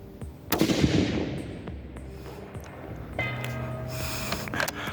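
A 6.5x47 rifle fired at targets during outdoor plinking practice, one sharp loud report followed by a long decaying echo and then quieter distant reverberation.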